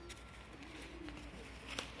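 Polish high-flying pigeons (Orlik) coo softly in a loft, a quiet low cooing with faint rustling and a brief footstep-like knock.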